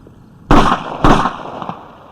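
Two sharp gunshot-like bangs about half a second apart, loud and close, each trailing off with some echo, during an FBI raid-style scene with no talk over them.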